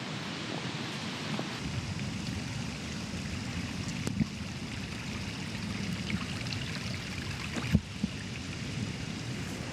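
A mountain stream near Trollstigen and Litlefjellet in Norway flows with a steady, soft burble and trickle, fairly faint and continuous, with a few small splashes or knocks.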